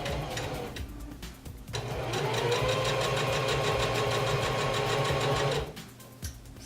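A sewing machine stitches a dress in a steady, rapid mechanical run that speeds up and holds for several seconds, with brief pauses before and after, close and loud with no talking.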